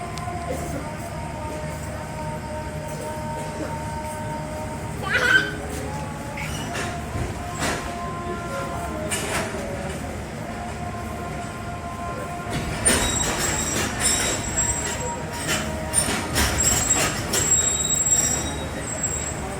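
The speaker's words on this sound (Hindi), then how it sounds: "2 मिनट खड़े होने के बाद रहमान बाबा एक्सप्रेस बढ़ गई आगे" Rehman Baba Express pulls out of Padidan railway station with its wheels squealing in sustained high-pitched tones over a rumbling train, the squeal and clatter growing busier and louder toward the end.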